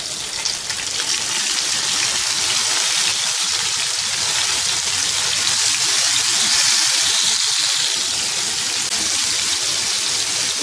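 Tomatoes go into light golden onions frying in a pan, raising a loud, dense, continuous sizzle that carries on steadily without any talk.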